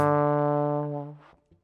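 A jazz seventh chord, used for improvising over chord changes, rings out alone and sustains for about a second before fading, with a faint short note after.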